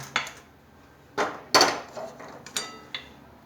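Roasted chana dal is tipped and scraped from a pan onto a metal plate, making about five separate clattering clinks and rattles with short quiet gaps, close and fairly soft with no talking.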